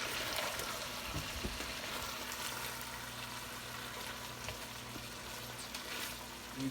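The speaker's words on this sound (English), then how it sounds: "Grace, can you give it a stir?" Celery and onions sweat in a pot, giving off a steady soft sizzle and frying hiss while being stirred, with faint scraping and a low hum in the background.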